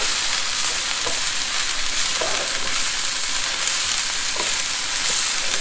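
Chow fun noodles stir-fry in a Chinese wok, giving a steady loud sizzle with occasional scraping stirs and no talking.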